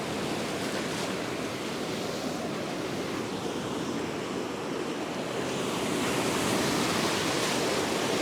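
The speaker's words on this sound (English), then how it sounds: "those waves are really starting to come up over this edge" Ocean surf breaking on a beach during a fishing outing, a steady, loud, close wash of waves with some wind, swelling slightly toward the end, with no talking.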